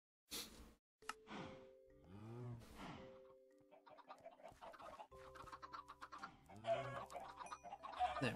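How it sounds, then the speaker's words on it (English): Minecraft chickens clucking in a blocky video game world, a handful of short synthetic clucks and squawks spaced irregularly, fairly close and clear with no talk over them. "time to kill more chickens"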